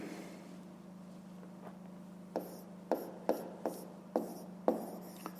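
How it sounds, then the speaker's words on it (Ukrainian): Pen strokes writing a maths inequality on paper, a run of short scratchy taps and strokes in a steady rhythm over a constant low hum, close and fairly faint. "Так, пишемо."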